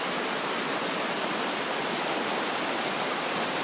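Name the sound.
river water flowing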